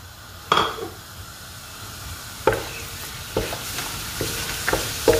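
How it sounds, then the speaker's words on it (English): Whole spices hit a hot pan for lamb pilau, giving a close, loud sizzle with sharp crackling bursts and a few clinks of stirring over a steady frying hiss. "And just fry them for a couple of seconds."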